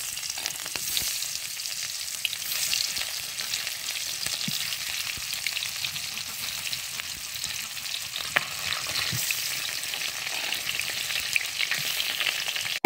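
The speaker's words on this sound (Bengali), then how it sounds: "তেল গরম হয়ে গেছে, এবার একে একে মাছগুলো দিয়ে দিলাম" Fish fry in hot oil in a wok, giving a steady, close, continuous sizzle with occasional crackles and pops throughout. No one speaks.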